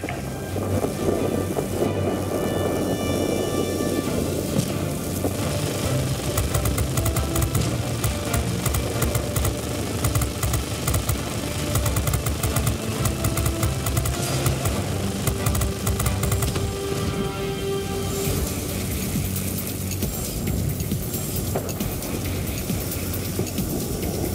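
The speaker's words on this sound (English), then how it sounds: "Be advised, a line of thunderstorms is approaching will soon be unable to provide support." A thunderstorm rolls through the World of Warplanes video game, with dense, steady rain noise and low rumbling mixed with a droning aircraft engine, loud and unbroken throughout.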